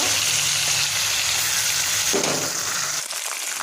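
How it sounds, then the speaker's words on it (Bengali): River bata fish frying in a pan of oil, a steady close sizzle that continues evenly before dropping off near the end. "মাছটাকে ভেজে নেব।"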